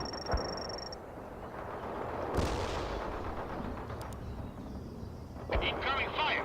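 Gunfire and artillery crash through a battle in the real-time strategy game World in Conflict. Heavy booming impacts and bursts of shooting come over a steady rumble, with short game voice callouts mixed in.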